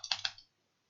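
Quick burst of four key clicks on a new computer keyboard that is playing up, close and crisp, stopping abruptly into silence.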